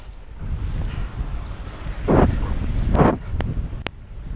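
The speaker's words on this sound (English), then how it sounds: "it's been a bit of a slog for the last 30 miles into a pretty heavy headwind" Strong wind buffets the microphone of a cyclist pushing into a heavy headwind, a steady broadband rush with two louder gusts swelling midway, no talk.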